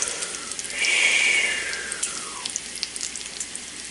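Bacon sizzling in a pan for a BLT, a soft steady crackle with scattered pops and a brief hissing swell, faint and close, without any talking.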